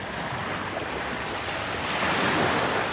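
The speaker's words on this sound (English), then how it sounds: "So we're here down on the beach tonight," Ocean waves rolling onto a beach at sunset, a steady wash of surf mixed with wind buffeting the microphone, swelling slightly louder toward the end.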